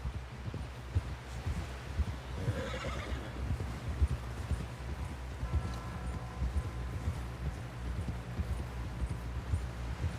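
In Red Dead Redemption 2, a horse whinnies once near the start while hooves clip-clop steadily along a trail, the footfalls rhythmic and close amid faint outdoor rustling.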